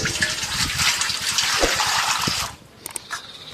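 Water gushes from a tap while chicken liver is washed, a strong continuous splashing stream that stops abruptly near the end and is followed by a few light drips and clinks.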